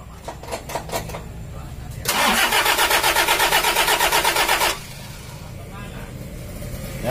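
A Toyota Kijang diesel engine with a rough, misfiring idle and weak power cranks on the starter in a fast, loud rhythmic churn for about three seconds, then settles into a steady idle, with people talking nearby.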